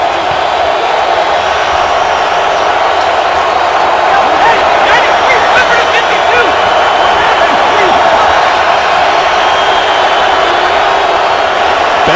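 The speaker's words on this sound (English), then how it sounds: "with all this crowd noise" Loud stadium crowd at a Bengals-Colts NFL game roars in a continuous dense wash of noise, building briefly midway, with no break throughout.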